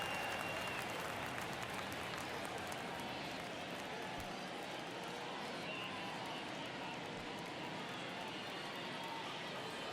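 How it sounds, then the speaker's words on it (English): Baseball stadium crowd in MLB The Show 23 keeps up a steady, dense roar of cheering and murmur throughout, with a couple of brief thumps and commentary voices woven in. "you can feel this crowd waking up a bit here"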